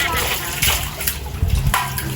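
Water splashing and pouring while someone bathes at a well, with repeated sloshing dumps of water close by under nearby voices.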